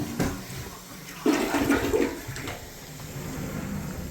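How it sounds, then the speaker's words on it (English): A household toilet flushes in a bathroom during a vanity and sink installation, a steady rushing of water with a louder surge partway through, close and alone without speech. "I flush the toilet."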